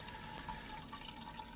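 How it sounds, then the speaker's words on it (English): Beer from a fresh hop pale ale splashes and runs onto the floor during a home brew day, a steady close liquid pouring and dripping sound with no talk. "Anyway, pouring half the beer on the floor."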